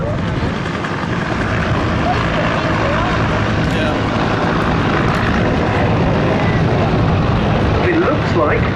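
Spitfire and bomber engines roar overhead at the Duxford summer airshow, a loud, dense, steady propeller drone filling the air, with an announcer talking underneath.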